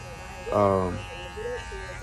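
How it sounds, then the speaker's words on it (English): A cordless hair clipper gives a short, steady electric buzz lasting about half a second, heard close by amid a man's speech. "Pretty quiet clipper, and they very inexpensive as well."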